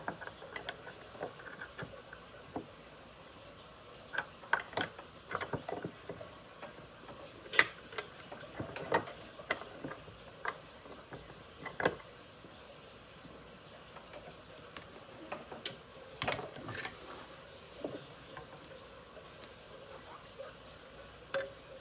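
Quiet, intermittent ratchet clicking as a 24 mm socket works a bolt loose while a Ferrari engine is being dismantled, with short bursts of ticks separated by pauses.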